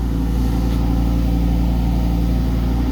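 A Lamborghini Huracan engine idles steadily with a low, even hum and a constant rumble, close and fairly loud, with no talking.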